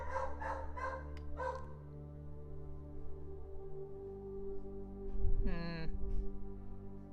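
Dogs barking in short bursts at the start, then a yelping, whining dog vocalization later, heard under a background tone and occasional voices.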